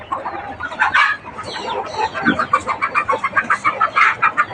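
Fighting cocks cluck at a farm in a rapid, steady run of short calls, close and fairly loud, with a brief crow-like call near the start and no speech.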